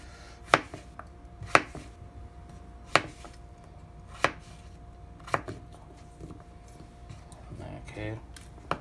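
A new knife chops vegetables on a board for a stir fry, giving sharp, distinct thunks spaced about a second apart, close up, with a faint background hum and quiet movement between cuts.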